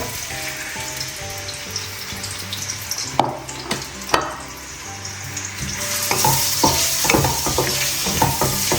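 Chopped onions hitting hot oil in a pan for a pork roast curry, a steady loud sizzle with scraping stirring clicks, growing busier toward the end, no voices.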